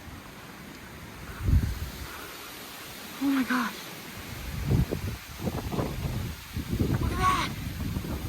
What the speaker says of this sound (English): Those are probably 60, 70 mile per hour gusts.